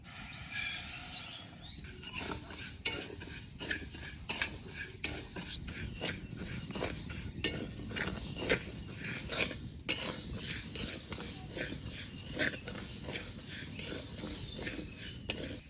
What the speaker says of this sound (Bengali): এবার একটু হালকা করে ডালটা ভেজে নেব।